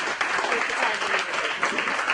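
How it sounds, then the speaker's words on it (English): A short burst of audience applause for Rosemary at the close of an interview, with dense, even clapping holding at a steady level throughout, close and full. "Let's give Rosemary a big round of applause."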